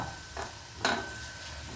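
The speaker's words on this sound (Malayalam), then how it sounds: "കുറച്ച് കായത്തിൻ്റെ കഷ്ണങ്ങൾ ഞാൻ ഇട്ട് കൊടുത്തിട്ടുണ്ട് അത് നമുക്കിങ്ങോട്ട് വറുത്തെടുക്കാം" Small asafoetida pieces crackle faintly in hot oil, with two brief scraping stirs of a utensil in the pan.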